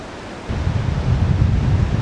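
Cold ocean surf rolling in along the San Francisco coast, a rising rush of breaking waves mixed with low wind rumble on the microphone, loud and close.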